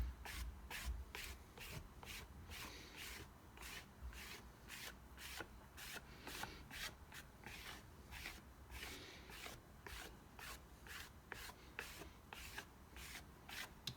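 A gift card edge smooths coaster material in steady, repeated scraping strokes, rhythmic and close, with no voices.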